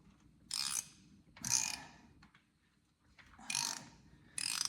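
A ratchet socket wrench turns a fastener while the PTO rear cover comes off a 1956 John Deere 420 Standard tractor, producing four short bursts of quick clicking, close and fairly quiet, separated by pauses.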